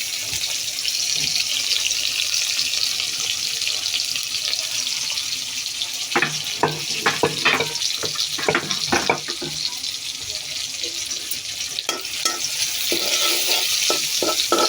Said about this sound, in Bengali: এই যে তেল দিয়ে দিচ্ছি, পেঁয়াজটা দিয়ে দিচ্ছি